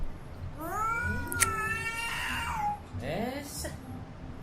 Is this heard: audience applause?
no